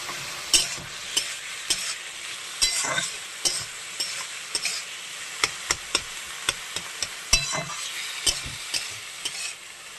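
Banana stem (thor) frying in a pan, seasoned with a little turmeric, gives a soft steady sizzle broken by repeated sharp scrapes and taps of a spatula stirring against the pan, with no talking.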